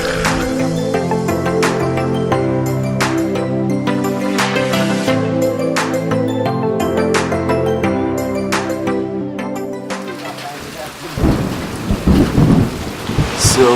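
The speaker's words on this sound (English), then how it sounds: "So it's in the middle of the night and it started raining" Heavy rain and thunder at night around a jungle treehouse in Laos, with a steady roar of downpour on surfaces, rumbling thunder, and a louder, sharper burst of rain and crackling near the end.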